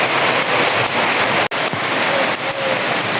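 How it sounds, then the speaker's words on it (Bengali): Steady drizzle falling outdoors, a dense, even hiss of fine rain on surfaces, close and continuous throughout. "এই যে আজকে এই বৃষ্টি, সকাল থেকেই গুড়ি গুড়ি বৃষ্টি।"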